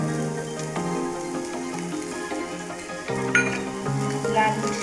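Oil sizzles steadily in a pan with reddish roasted onion, a close, continuous frying hiss with a few soft clinks and stirs over a faint background hum.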